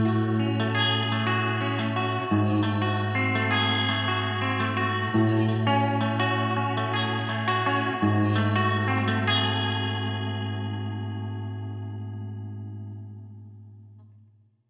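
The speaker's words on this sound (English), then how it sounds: "The vibrato adds a sweet swirl to your sound for added dimension." Sustained electric guitar notes through a Mercury7 reverb pedal shimmer with a swirling, wavering vibrato and reverb, then fade out slowly in the final seconds.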